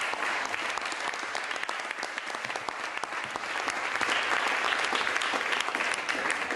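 An audience at a slam poetry evening claps loudly and steadily for guest Serge Baza, a dense unbroken wash of hands that swells slightly toward the end, with no voices standing out.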